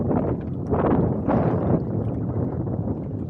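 A wind gust buffets the microphone while sailing a Hobie Adventure kayak, loud, broadband rushing that swells and eases in waves with no talk.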